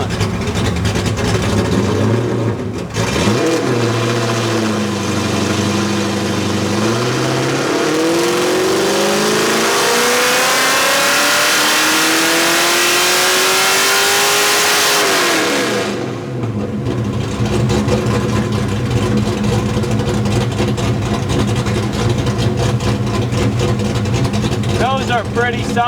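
A naturally aspirated 347 V8 in a Ford Foxbody with a Trick Flow 170cc head top-end kit roars through a dyno pull, its pitch climbing steadily for about twelve seconds before it abruptly drops back to a loud, rumbling idle.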